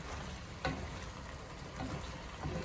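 Beef and bitter gourd sizzling in a pan, with a soft steady fry and a few light scraping stirs of a utensil.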